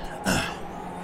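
One short, rough throat clear or cough bursts out close by, then quiet hiss follows.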